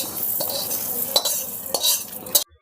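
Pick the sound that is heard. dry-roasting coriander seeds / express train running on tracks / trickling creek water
dry-roasting coriander seeds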